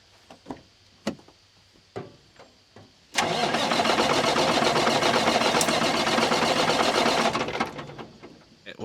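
A 2016 Cummins diesel engine in a combine harvester cranks and fires after a few clicks and knocks, then runs loud and steady at close range for several seconds before it cuts off.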